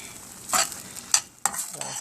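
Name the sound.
food frying in oil in a pan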